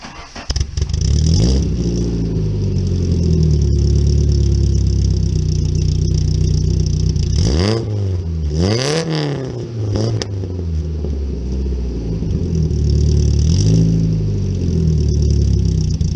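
A Peugeot car engine starts up close by, then settles into a loud steady idle broken by two sharp revs, one after another, before it drops back to idling.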